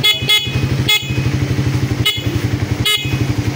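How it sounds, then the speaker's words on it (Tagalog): A Suzuki Raider 150 Fi motorcycle engine idles with a pulsing putter while its stock horn gives several short, sharp beeps at irregular intervals, close and loud. "Stock horn."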